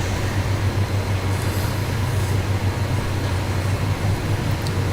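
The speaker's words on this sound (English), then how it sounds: "And now the train is going by the depot." Union Pacific 844 steam locomotive and its train rolling past a depot, a steady loud low rumble with continuous rail noise and faint hiss, sustained without pause throughout.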